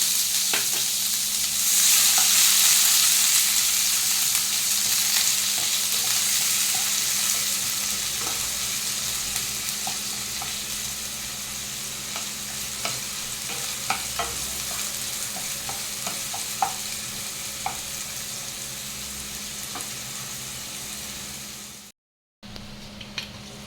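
A small chopped onion fries in a pan, with a continuous close sizzle and occasional light stirring scrapes, steady throughout and then briefly cut off near the end.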